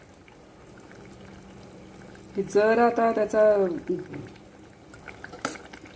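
Mutton broth with radish comes to a rolling boil in a pot, giving a loud burst of bubbling and gurgling for about a second and a half midway, then settling to faint simmering with a voice speaking over it.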